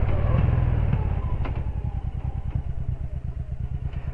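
Motorcycle engine revving with a throttle blip during a downshift while braking, a loud close rumble with rapid pulsing firing beats that settle into a steady idle-like throb.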